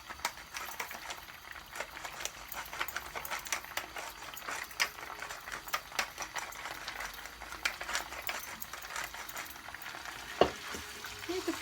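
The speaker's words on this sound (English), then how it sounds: "Need to fry this a little bit." Stuffed peppers for dolma, seasoned with salt and pepper, frying in a pan with a steady soft sizzle and occasional scrapes of stirring, one sharper clink near the end, no talking.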